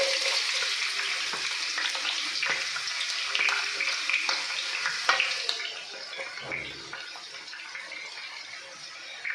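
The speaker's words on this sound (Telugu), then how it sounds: "ఇప్పుడు మనం వేసుకున్న పచ్చిమిర్చి ఆనియన్ బాగా ఫ్రై అయ్యే వరకు ఫ్రై చేసుకోవాలి" Chopped green chillies and onion crackle in hot oil, a bright, hissing fry that is strong at first and then eases to a quieter sizzle, with a brief low thump partway through and no talking.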